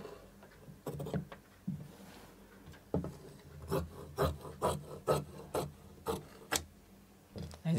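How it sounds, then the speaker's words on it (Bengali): Scissors cut fabric along marked lines for girls' pants, a series of close, crisp snipping and rubbing bursts in an irregular rhythm, with no talking. "এখানে কাটবো একদম দাগে দাগে কারণ এর উপরে আর আমার কাপড় দরকার নেই"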